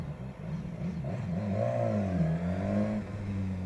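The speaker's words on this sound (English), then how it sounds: "The exhaust is mad. This is how they're doing standard exhaust now. This is crazy. Wicked exhaust note." A 2015 BMW S1000XR motorcycle with its standard exhaust gives a steady, close-up engine and exhaust note that rises and falls slightly in pitch as it revs, heard alone without talk.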